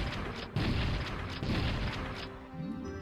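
Shotgun blasts propel Mario forward in Shotgun Mario 64 as a few heavy booming bursts over a dense, loud wash of game noise.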